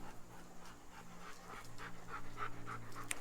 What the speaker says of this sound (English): he is our beautiful German, true German bloodline dog that we imported from the Czech Republic